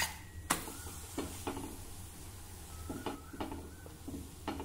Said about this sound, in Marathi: मध्यम ते मंद गॅसवर पुसणे भाजा।